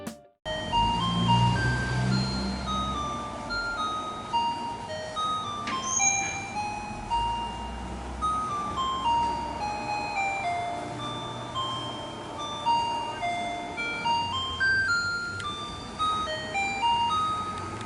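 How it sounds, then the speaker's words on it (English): An Osaka garbage truck broadcasting its tinkling melody through a loudspeaker, a continuous bright tune repeating for the whole stretch, loud and carrying over a low street hum. "the garbage trucks play music, and they've been blasting the same song since 1964."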